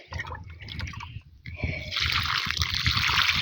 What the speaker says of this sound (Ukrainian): Буду лити літру води.